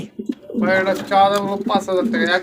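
Fancy pigeons cooing at a pigeon market, several soft throaty coos close by, with people talking in the background.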